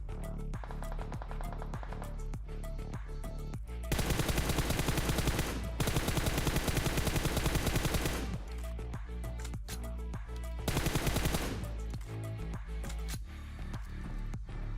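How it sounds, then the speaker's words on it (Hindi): Bursts of automatic gunfire from the mobile battle-royale game PUBG Mobile, loud and dense rapid shots in long sustained volleys, separated by shorter sections of sharp single and clustered shots, with no talking. "लेकिन तभी फायर हुआ।"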